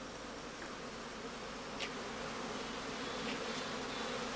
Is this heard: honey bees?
yes